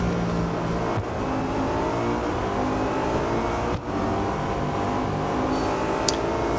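A BMW M5 race car in the Real Racing 3 video game holds a steady, droning engine note at speed, with brief dips in tone as it shifts or lifts off, then a sharp click near the end.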